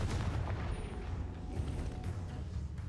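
A Confringo fire-blast spell explodes during combat in the Hogwarts Legacy video game, producing a loud, sustained low rumbling boom that fills the whole moment with no talk over it.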